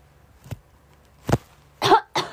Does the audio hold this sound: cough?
yes